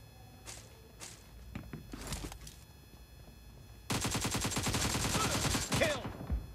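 M416 assault rifle firing in the mobile shooter BGMI: a sustained rapid automatic burst of close, loud shots after a few scattered thuds and quieter sounds, with game noise underneath.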